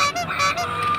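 Toy dancing duck making a continuous buzzy electronic honking squawk, loud and close, with a wavering pitch for about a second and no talk.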